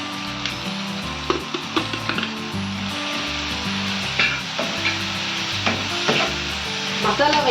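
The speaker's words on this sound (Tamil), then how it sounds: "எண்ணெயிலே வதக்கி அந்த பச்சை வாசனை போகிற வதக்கி எடுக்கலாம்" Chilli, coriander, turmeric and pepper powders sauté in hot oil with a steady, close sizzle. Scraping stir strokes sound now and then, over soft background music.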